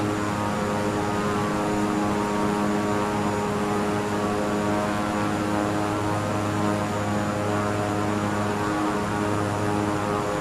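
A propeller airplane comes in to land in a flight simulator game: a steady, loud engine drone with a sustained buzzing hum that holds even throughout, no voices.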